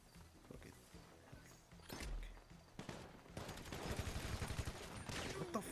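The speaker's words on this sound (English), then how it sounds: "I'm getting shot at." Gunfire in GTA 5 Survival Mode, scattered shots then rapid bursts of automatic fire growing louder and denser toward the end, amid chaotic game noise.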